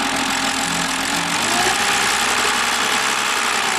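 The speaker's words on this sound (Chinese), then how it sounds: "油门加到1200的时候，稳定在那边的时候，会有一个哒啦啦啦啦的声音。" A BMW N52 engine with a ticking fault idles steadily at about 1200 rpm, giving a continuous loud mechanical drone with a fast, close rattling tick running throughout.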